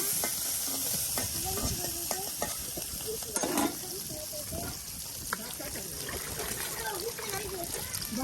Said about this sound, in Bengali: এই যে দেখুন এখন পেঁয়াজ কুচি তার সাথে এই যে মরিচ কুচি একসাথে তেলের ভাজি দিয়ে সুন্দর করে আপনার ভেজে নেওয়া হচ্ছে।